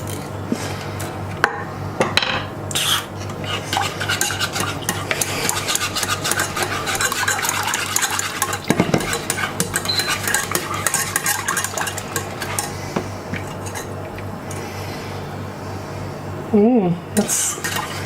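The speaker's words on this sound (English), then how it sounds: "So I'm going to see if I can use this whisk by now." A whisk stirs Italian hot chocolate in a pan, scraping and clinking rhythmically against the metal over a low sizzle, close and fairly loud, with occasional brief talking.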